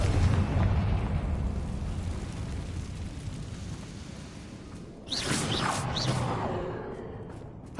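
In Hogwarts Legacy, a Confringo fire spell goes off as a loud rushing blast with dense rumbling noise, fading over several seconds before a second burst erupts with sharp crackling whooshes that trail away.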